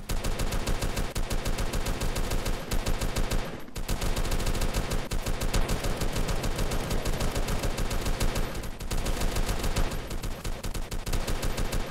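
Dense, nonstop gunfire in a video game base battle: rapid automatic bursts overlap into a loud, continuous clatter, broken only by a couple of very brief gaps.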